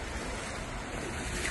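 Floodwater rushing over a submerged street where the road, sidewalk and crossing should be, knee-deep. The sound is a steady, moderately quiet wash of churning water with some wind buffeting, continuous for the whole stretch with no voices.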